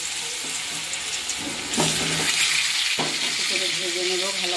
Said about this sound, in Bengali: তো এখন কলাটা ভেজে নেব, কাঁচা কলাটা